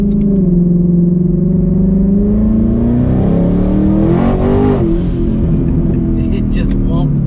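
A 2020 Ford Mustang GT with a Hellhorse twin-turbo kit accelerates hard, its engine note climbing steadily in a loud, close rising drone with turbo whir, then easing off, with talk over it.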